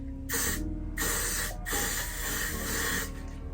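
Got2b Glue hair spray hisses in three or four close, steady bursts with short gaps while a braided high ponytail is being wrapped.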